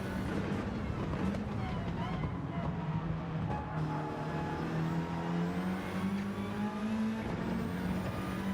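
Onboard TCR touring race car engine lapping Grand Valley Highway in a sim race, its pitch climbing and falling through gear changes, with a commentator's voice talking over the droning motor.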